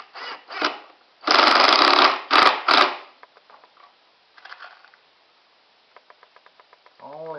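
An impact driver sinks drywall screws through hinges while a mobile drill press base is built, with a few short, loud whirring bursts followed by quieter ticking and clicks.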